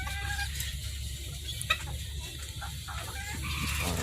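Chicks and adult chickens cluck and peep close by in a small pen of newly bought pet birds, a steady mix of soft clucks and thin chirps over a low background hum, with no talking.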